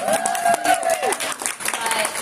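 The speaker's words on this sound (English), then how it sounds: "please round of applause for Dana." Audience applause at a Star Wars Unlimited panel at the 2025 Galactic Championship, a steady wash of clapping from the crowd with a voice speaking over it.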